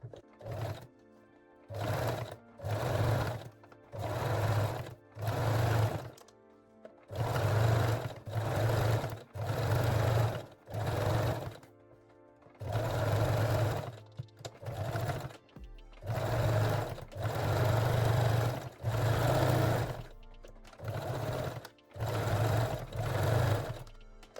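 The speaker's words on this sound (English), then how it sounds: "Fold the elastic to the wrong side and sew the waistline again." A sewing machine stitches elastic onto the waistline of lace-back panties in repeated short bursts of close, droning motor whir separated by brief quiet pauses.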